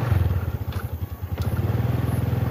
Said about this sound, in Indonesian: ngegas motor ini